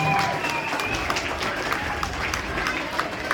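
A school assembly crowd claps and cheers for a student drum crew. The clapping is sustained, with scattered louder claps and some voices mixed in.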